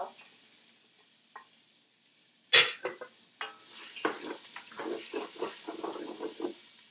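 Peppers, onions, garlic and bacon sizzle in a pan, with a sharp clank of a utensil and then repeated stirring scrapes and rustling sizzle bursts growing busier close by.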